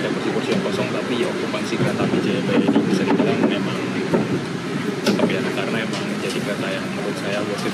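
Interior of the Jayabaya executive new-generation train pulling away from Bekasi station, with a steady rumble and faint rattles of the carriage rolling along the track, under continuous talk.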